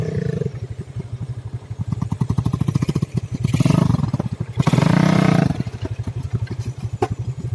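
A motorcycle engine idles nearby with a fast, rough pulsing throb, swelling twice into louder revs before settling back to idle.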